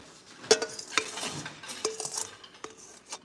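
A mason jar is scraped out with a lettuce leaf, producing a series of sharp clinks and brief rubbing scrapes against the glass at an irregular pace, close and fairly loud.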